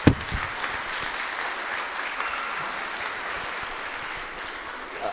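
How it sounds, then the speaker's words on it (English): Steady, dense applause from a crowd at a county Republican primary debate fills the room evenly for the whole stretch, a broad continuous wash of many hands clapping with no talk over it. "let's give all those folks a big round of applause really quick"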